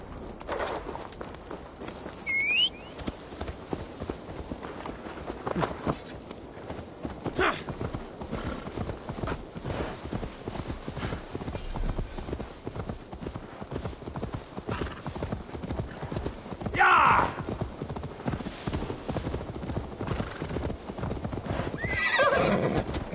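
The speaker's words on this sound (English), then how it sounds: "Now to deliver Magni his horse." Horse in the Assassin's Creed Valhalla video game, hooves clip-clopping in a steady walking rhythm throughout, with several whinnies and neighs breaking through, close and fairly loud over light ambient sound.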